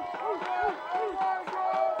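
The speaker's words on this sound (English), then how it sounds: "And you hear the crowd in the background" Crowd noise at a youth Pee Wee football championship game between the Southside Panthers and Collinwood Cobras, a steady murmur of voices and shouts filling the field with overlapping talk and calls.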